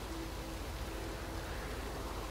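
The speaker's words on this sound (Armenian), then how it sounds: "նույնիսկ անձրև է գալիս" Steady, even rain hiss from the video game Witcher 3, a faint continuous wash with no distinct drops or thunder.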